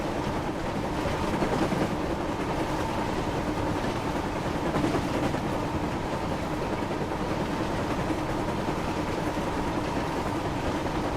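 Train running in the Thomas and Friends: Wonders of Sodor video game, a steady rolling rumble with faint rhythmic clatter and a few louder swells, alone without talk.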